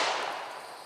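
A single sharp report from a cheap 1920s-style mobster pistol, loud and close, with a broadband crack that decays over under a second; no talking.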